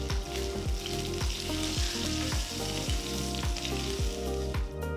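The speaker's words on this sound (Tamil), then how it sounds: "கொஞ்சம் ஃப்ரெஷ்ஷான கருவேப்பிலை சேர்த்து ஒரு தடவை கலந்து விட்டுக்கலாம்" Cumin, asafoetida and fresh curry leaves fry in hot oil for a curry, giving a loud continuous crackling sizzle, with a regular series of stirring scrapes at roughly half-second intervals throughout.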